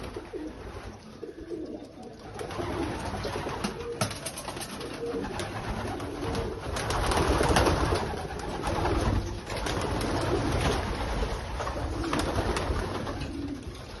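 Pigeons in a one-loft racing loft in Croatia coo continuously, soft throaty calls overlapping from several birds at moderate distance over a steady background hum and rustle.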